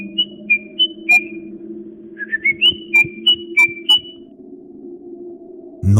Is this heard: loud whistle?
yes